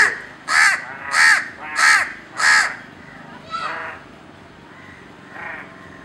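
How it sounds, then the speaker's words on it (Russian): A Maldivian crow caws four times in a loud, evenly spaced series close by, then gives two softer, rougher calls after a pause. "что ты привлекаешь тут ворон?"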